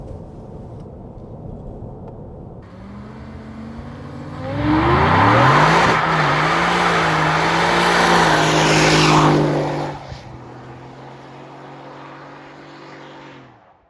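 Supercharged Ford F150 pickup with an MBRP exhaust accelerates hard with tires spinning, a loud rising engine roar that swells, holds strong for several seconds, then eases back to a steady lower rumble.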